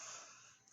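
A person's breathy, airy yawn, close and fairly loud, holding steady and then tapering off within under a second, with no talking.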